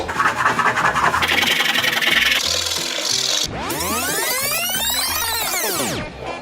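Surf wax is rubbed onto a surfboard from different angles, giving a close, continuous scraping and rubbing that shifts in pitch and texture as the strokes change direction, with no talking.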